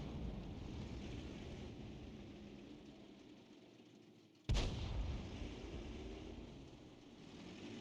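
A single heavy boom from an M44 self-propelled artillery gun in a tank video game cuts sharply through a steady low engine rumble midway, then the drone continues.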